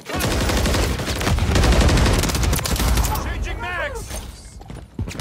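Dense rapid gunfire and bursts in a Call of Duty: Modern Warfare 3 multiplayer hardpoint match, loud and continuous, tapering near the end, with in-game voices calling out over the shooting.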